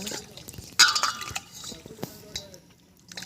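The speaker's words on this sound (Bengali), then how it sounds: "এইরকম করে চার পাঁচবার ভালো করে কচলে কচলে ধুয়ে নেব" Magur catfish being rubbed and washed by hand in water, with splashy drips and wet handling noises, a sharper splash near the start, and scattered trickles that fade and return.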